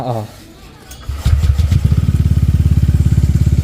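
A motorcycle engine idles with a steady rapid pulsing after a short start, rising and falling as a quick throttle is worked, loud and close.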